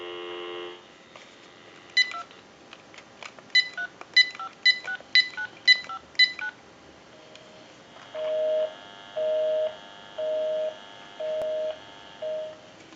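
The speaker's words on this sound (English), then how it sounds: "Give you some dial tone." Keypad tones from a GE 6.0 27909 cordless telephone: a quick run of about eight distinct dialing beeps, then a steady repeating tone in five even on-off pulses, close and clear with no talking.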